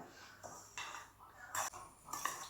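Grated coconut being mixed in a bowl with a spoon, with soft scraping strokes and a few clinks of metal against the dish, quiet and close, about four distinct strokes.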